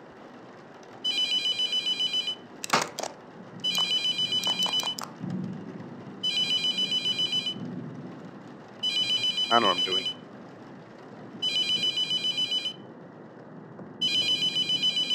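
A telephone rings in the horror video game Mortuary Assistant, repeated electronic double-trill bursts at a steady rhythm, loud and close, with someone briefly talking between rings.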